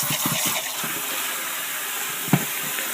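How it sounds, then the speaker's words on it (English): Tap water runs steadily into a sink to rinse lemon juice off dug clad coins, a continuous even gush with a few soft clinks and one sharper knock near the end. "Let me run my water a minute"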